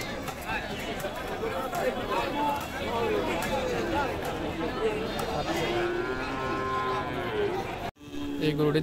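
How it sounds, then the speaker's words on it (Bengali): Cattle low amid crowd chatter and general hubbub at a busy Qurbani Eid livestock market in Guimara, Khagrachhari, where hill cattle of many sizes are for sale. Near the end, a brief sharp break interrupts the noise. "এখানে ছোট বড় অনেক সাইজের গরু আছে"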